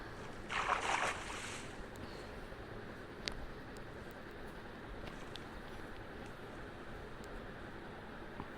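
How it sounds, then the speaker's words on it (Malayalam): Boat rowing on water in Minecraft, a soft steady wash of water noise running throughout with a brief louder splash near the start and a few faint clicks, no talk. "ബോട്ട് ഓടിക്കാൻ പിന്നെ ഞാൻ എക്സ്പേർട്ടായിട്ട് പ്രശ്നമില്ല"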